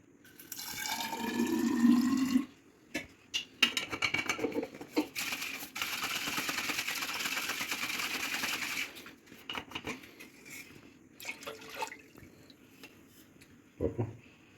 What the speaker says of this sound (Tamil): இந்த தண்ணியை கொஞ்சம் ஊற்றிட்டு